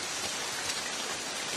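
Steady rain falls at night, a dense, unbroken hiss of drops pattering on surfaces, fairly loud and close, with no voices.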